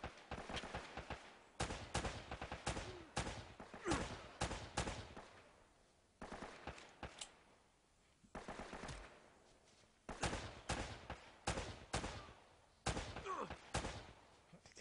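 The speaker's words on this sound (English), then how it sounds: "Who's shooting me?" Rapid bursts of video game gunfire from Uncharted crackle in repeated volleys separated by brief pauses, loud and dense throughout with no talk over it.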